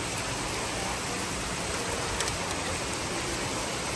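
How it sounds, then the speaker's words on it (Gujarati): Heavy rain driven by wind pours down steadily, a dense, loud, even hiss of water filling the whole scene without a break. "એકદમ જોરદાર આવે છે વરસાદ, પવન સાથે વરસાદ છે"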